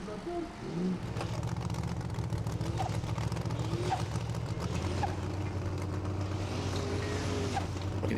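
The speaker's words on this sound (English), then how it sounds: "You can hear the turbos working there." A Formula Offroad truck at an Icelandic event in Egilsstadir, its engine and turbos whining and droning at a distance, with shifting pitch over a steady rumble and some faint voices.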